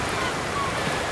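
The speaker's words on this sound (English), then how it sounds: "if the waves calm down tonight, and they generally do at night, and the lake settles down" Lake waves wash steadily against a flat dolomite rock shore, a continuous broadband surf rush with gentle wind noise, fairly close and moderately loud, no voices.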